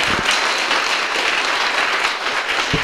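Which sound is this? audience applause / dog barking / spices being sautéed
audience applause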